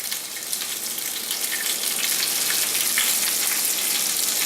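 Baby spinach and chopped basil hiss and crackle in a hot pan for a feta and spinach stuffed salmon filling, a dense, even sizzle heard up close with no talking.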